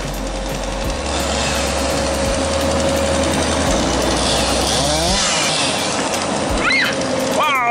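A chainsaw cuts the big branches off trees being taken down by a crane over a house, running loud and steady throughout and revving and whining near the end, with a low engine drone underneath.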